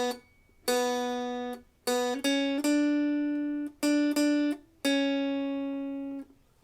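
An electric guitar plays a riff, a series of sustained, ringing single notes in a rhythmic pattern with short gaps, close and clear with no talking.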